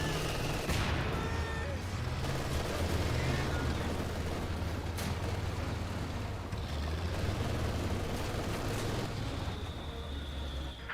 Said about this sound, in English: Good mortar hit there on that officer.